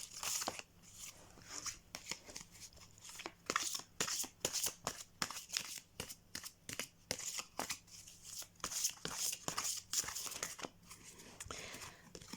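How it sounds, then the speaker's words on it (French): Oracle-style question cards are shuffled by hand in a long run of close, crisp riffling and flicking, with papery snaps and slides rising and falling in quick bursts. "Donc on va tirer une carte parmi les cartes questions."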